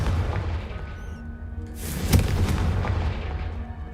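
A Confringo blasting spell explodes in Hogwarts Legacy, a loud booming burst near the middle that rises out of a steady rumbling game background and then decays into a noisy tail.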